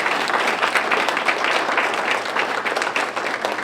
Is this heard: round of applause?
yes